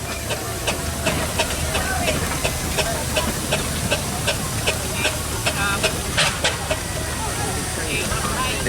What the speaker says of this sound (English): this is a Fowler B5 road locomotive, 1900